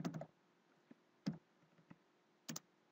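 Sparse keystrokes on a computer keyboard while entering a DOS mount command, a few close, crisp clicks spaced irregularly across a quiet background.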